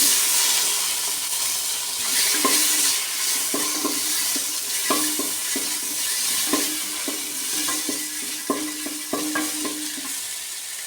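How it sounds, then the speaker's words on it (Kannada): Pepper, grated coconut and onion fry in a pan with a steady sizzle, and a spoon stirs and scrapes through them in irregular clinks and knocks, close by with no talking. "ಮೆಣಸು, ಕಾಯಿ ತುರಿ, ಈರುಳ್ಳಿ ಅಷ್ಟನ್ನ ಫಸ್ಟ್ ಫ್ರೈ ಮಾಡ್ತಿದ್ದೀನಿ."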